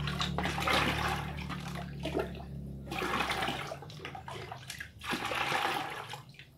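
Jakaba fertilizer water poured into a container and stirred, sloshing, splashing surges of liquid in three close, loud bursts with short pauses between them.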